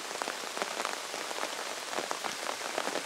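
Pouring rain drums hard on surfaces outdoors at a disc golf final round in Finland, a dense close patter of countless drops with scattered sharper splats throughout.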